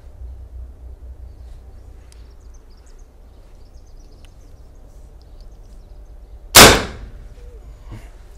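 A PCP Caçadora 4.5mm air rifle fires a single sharp, loud shot near the end, preceded by a quiet low background hum and faint ambient sounds, with no talking.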